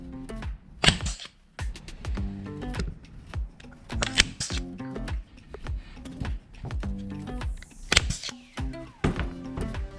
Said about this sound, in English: you just pull the canvas over it and pop it, staple it.